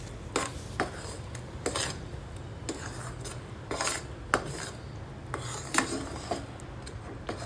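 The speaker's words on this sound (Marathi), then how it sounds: "1 चम्मच इतकं तूप टाकून घ्यायचं आणि परत सारण हलवायचं व्यवस्थित." Cashew katli mixture with ghee being stirred in a kadai: repeated scraping and rubbing strokes of a spoon against the metal pan, close and fairly quiet, with no talking.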